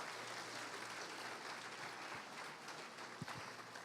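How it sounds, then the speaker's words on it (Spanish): A church congregation claps together during a Spanish-language service, a faint, steady wash of applause heard from a distance. "Denle un aplauso al Señor."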